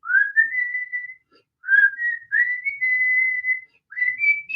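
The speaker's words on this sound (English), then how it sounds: "there's a whistle start" Human whistling of the intro melody of a song, four rising-then-steady phrases, clear and close with silence between them.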